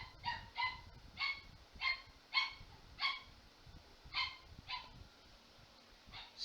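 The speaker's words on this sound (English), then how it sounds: "some background noise of our puppy" A young puppy yaps over and over in a steady run of about a dozen high, short barks and whimpers, close and fairly loud, with nothing else heard in a quiet room.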